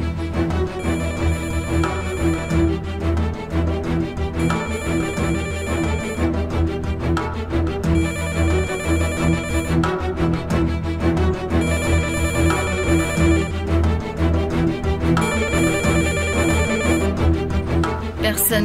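An unanswered telephone rings in repeated bursts of a few seconds each, separated by short pauses, over a steady bed of background music with no voices.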